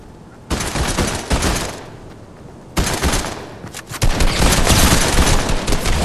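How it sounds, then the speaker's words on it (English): Bursts of rapid gunfire rattle loudly and continuously in Fortnite, with a brief lull before heavier volleys resume, sounding like a game firefight. "I got gunfire up over here"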